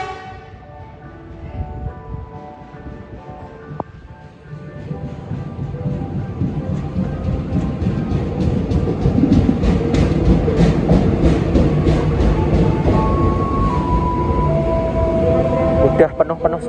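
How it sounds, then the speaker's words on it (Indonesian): A KRL commuter train arrives at platform 4 of Solo Balapan station, its low rumble and wheel clatter growing louder and nearer over station ambience, with a voice talking throughout. "ini dia KRL dari arah stasiun Palur masuk di jalur 4 stasiun Solo Balapan"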